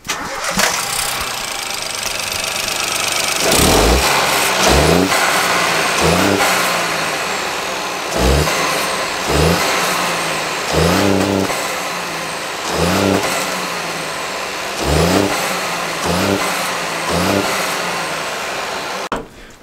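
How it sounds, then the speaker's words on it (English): A 1.0-litre EcoBoost Ford engine with an induction kit revs repeatedly in short bursts, each with a loud whooshing intake roar that swells and drops back to a rumbling idle, close by. "We are getting a bit more like noises off the induction kit"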